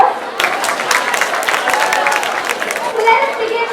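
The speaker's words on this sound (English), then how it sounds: "Please give them a huge round of applause." Audience applause at a youth festival dance competition, a dense, loud wash of clapping from a crowd with mixed chatter and children's voices throughout.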